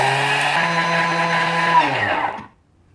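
A Thermomix blade whirs at high speed, milling dessert dukkah into powder, a steady loud grinding roar lasting over two seconds before cutting off abruptly into silence.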